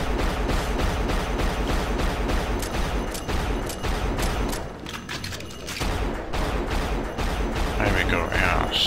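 Rapid, sustained gunfire from a weapon in the Unreal video game, loud bursts of repeated shots with a brief lull midway before firing resumes.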